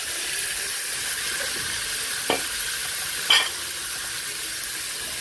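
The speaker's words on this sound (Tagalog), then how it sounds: "Lagyan na rin natin yung ating pork." Pork sizzles while frying in a pan, a steady bright hiss with a couple of sharp stirring clinks or pops, close and without talk.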